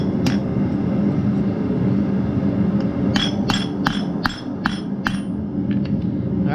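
Seven sharp metallic hammer strikes riveting a handmade forged grease lamp, spaced in an uneven rhythm over a steady low roar of forge or room noise, with one faint strike near the start.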